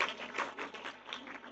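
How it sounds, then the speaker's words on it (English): Applause from a small panel-discussion audience at a women in media and communications event, a steady patter of hands clapping at moderate, fairly distant level for a brief moment with no talk. "Please, round of applause."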